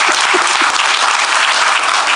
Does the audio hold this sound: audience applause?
yes